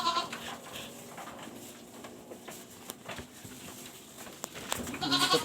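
Native goats bleating on a farm, several sharp calls near the start and again near the end, over a low rustling farmyard background.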